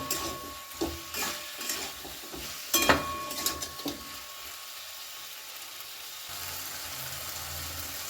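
Radish pieces and Malabar spinach stalks stir-fried with spices in a Bengali kitchen: intermittent scraping stirs and clinks over a soft sizzle, busier at first, then settling into a quieter, steady frying hiss.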